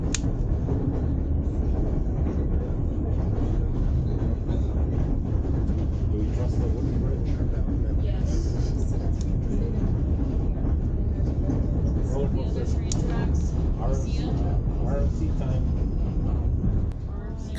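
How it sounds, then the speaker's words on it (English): The White Pass excursion train near Skagway, Alaska rumbles along a cliffside curve, a steady close low roar of wheels and cars heard from on board, with some wind. "you can see the entire length of the train going around the curve"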